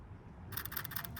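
Rapid camera shutter clicks from an SLR camera during an outdoor golden-hour portrait shoot, a fast burst of sharp, close clicks starting halfway through after a quiet moment.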